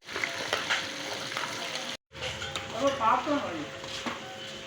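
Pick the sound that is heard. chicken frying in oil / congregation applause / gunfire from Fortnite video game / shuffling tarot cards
chicken frying in oil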